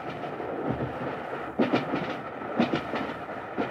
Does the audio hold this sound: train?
yes